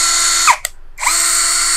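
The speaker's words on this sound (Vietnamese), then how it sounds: "Búa nó dùng để làm cho mình khoan tường nhanh hơn, đi qua bê tông nhanh hơn nhé." Cordless hammer drill running in concrete hammer mode, a loud steady whine with a brief stop in the middle before it spins up again, close and alone.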